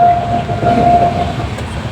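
A local train in India rumbles along steadily with a loud, continuous clattering roar and a faint high whine, heard close up.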